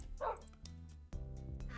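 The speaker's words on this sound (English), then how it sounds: "Stop barking at me, dog." Dog barking in a Minecraft hardcore game, three separate yapping barks spaced about half a second apart over quiet background tones.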